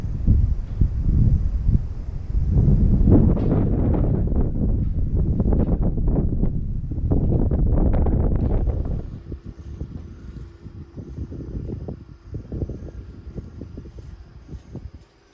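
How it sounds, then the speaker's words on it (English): Strong gale-force wind buffets the microphone on top of a big mountain fire tower, roaring loudly in continuous gusts before easing to a lower, steadier rush. "Wind's blowing a gale"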